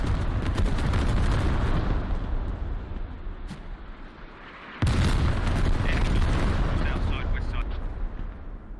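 Mortar rounds thump and burst in a tactical military shooter game, a dense barrage of booming impacts with a sharp louder blast midway, rumbling continuously under faint background chatter.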